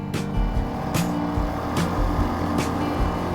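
A new Honda CRF 450 dual sport motorcycle ridden on a gravel Forest Service road, its engine droning steadily up close under wind rush, with periodic bursts of gravel or wind noise.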